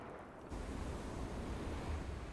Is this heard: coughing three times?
no